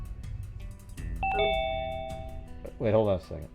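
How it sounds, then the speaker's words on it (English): Email notification alert chiming behind a talking person, a short bright two-tone ding that rings briefly in the middle of the clip while speech continues around it. "you guys can hear my email yelling at me behind me"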